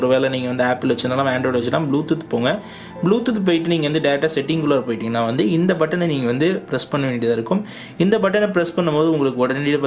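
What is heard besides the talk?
No everyday noises stand out.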